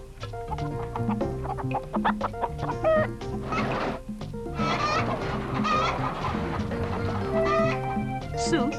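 Chickens clucking and squawking in a lively mixed chorus throughout, with a narrating voice running over them.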